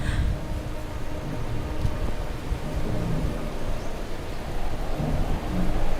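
A thunderstorm with steady heavy rain and a deep rumble of thunder, loud and continuous with no voices.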